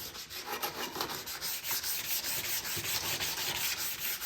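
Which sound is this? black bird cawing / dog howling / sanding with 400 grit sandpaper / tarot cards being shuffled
sanding with 400 grit sandpaper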